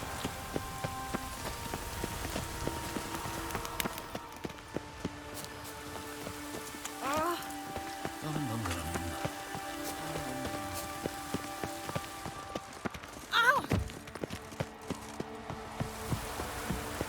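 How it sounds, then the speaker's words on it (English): Steady rain patters on the ground in The Witcher 3, a constant even hiss throughout with faint game ambience and a few scattered thuds under it, no one speaking. "Rain. The one thing that's plowing through this city. Looks like rain."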